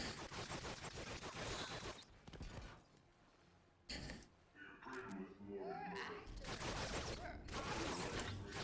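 Gunfire in Dawn of War: Unification, a real-time strategy game, comes as repeated rapid bursts mixed with mechanical clanks and other battle effects, with quieter gaps between volleys.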